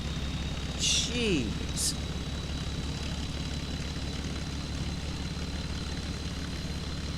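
A rocket engine throttles up at launch in Kerbal Space Program with a loud, steady roar throughout, and one brief exclamation from a voice near the start.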